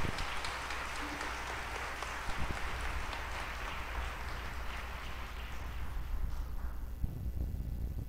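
A church congregation applauds loudly and forcefully, a thick continuous wash of clapping with low rumble underneath, sustained throughout before thinning slightly near the end.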